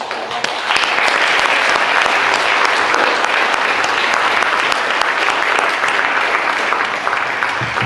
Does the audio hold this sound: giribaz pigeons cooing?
no